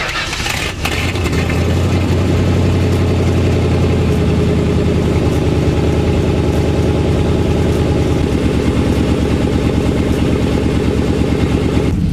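A Turbo Thunderbird engine fitted with a 3800 stall converter runs loudly and continuously nearby, a thick, steady mechanical drone that holds throughout, with the transmission being worked through its gears.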